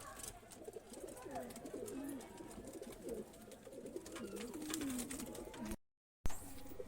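Medrasi pigeons coo softly in a repeated, low, rolling pattern close by, quiet and steady with faint background noise, cut by a brief silent gap near the end.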